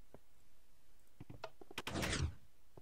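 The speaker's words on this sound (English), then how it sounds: "I want the doors to open, I think, on the inside, like this." Reinforced doors in Minecraft swing open and shut with a series of soft wooden clicks and thunks, ending in a fuller knock, all faint against a quiet background.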